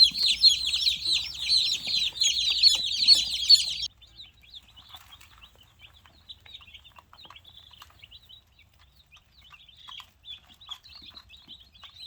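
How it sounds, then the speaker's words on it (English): Dense, high-pitched chirping and cheeping from a group of meat-bird chicks fills the first four seconds, then fades to sparse, faint peeps against near silence. "I'm going to get the rest of the chicks out of the box"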